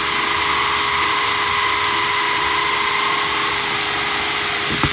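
A power drill bores a hole through a glass tobacco pipe, giving a steady high-pitched whine with a faint tonal grind, running continuously and close before a brief clatter at the very end.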